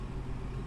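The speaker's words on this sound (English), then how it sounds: "from the back here, you can lower the car with this button" Low, steady mechanical hum and rumble from a 2020 Land Rover Defender SUV lowering its air suspension, a faint, continuous drone heard alone.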